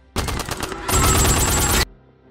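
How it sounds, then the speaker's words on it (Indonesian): A rapid burst of gunfire in a film rattles out, loud and close, in fast repeated shots lasting under two seconds before cutting off to quiet. "Mendengar suara tembakan"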